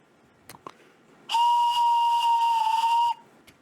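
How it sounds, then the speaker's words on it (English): A steam whistle on a 460 Steiner class steam locomotive gives one loud, sustained, hissing blast of nearly two seconds that is preceded and followed by a few faint clicks. "The 460 Steiner class steam locomotive."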